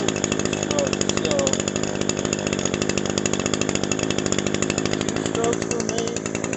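A two-stroke lawn cutting machine engine runs steadily up close, a loud, buzzing drone that holds an even pitch and level throughout with no pauses.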